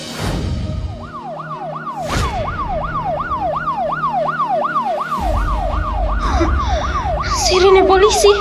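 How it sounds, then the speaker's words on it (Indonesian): A police siren wails in a fast, repeating up-and-down yelp, loud and close, steady for several seconds with engine rumble and other noises mixed in beneath it. "Sirine polisi."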